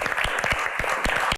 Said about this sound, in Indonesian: Tepuk tangan untuk ayah dari Mbak Anggun.